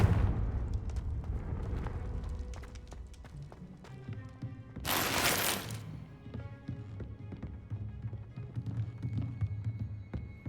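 A Confringo blasting spell from Hogwarts Legacy goes off as one loud, roaring burst midway through, rising out of steady game ambience and music and fading after about a second.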